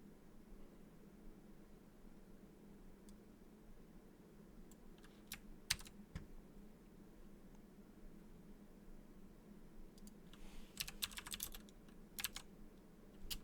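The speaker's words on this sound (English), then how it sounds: "I can type that into the chat." Someone types on a computer keyboard in a quiet room, with faint, soft clicks that come in two short bursts against a low background hiss.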